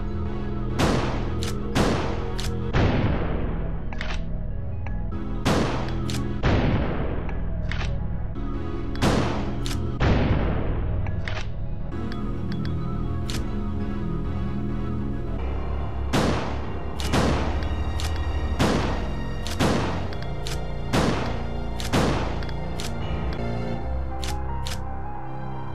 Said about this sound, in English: let's go ahead and test the shotgun out